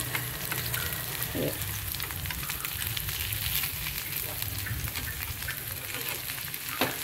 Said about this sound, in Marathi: आता छान खरपूस भाजत आहे।